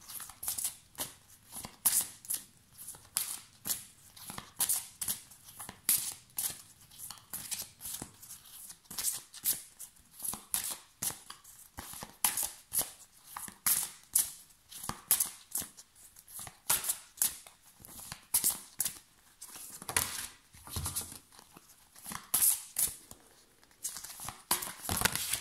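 Tarot cards shuffled by hand in long runs of quick, crisp riffling and flicking bursts, close and fairly loud, with short pauses between bursts and no talking.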